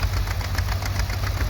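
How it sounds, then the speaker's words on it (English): A small Ford tractor engine pulls two plows through a Palouse field, running as a steady, rough, close mechanical drone with a faint knock. "And there's Mary on a little Ford, pulling 2 plows"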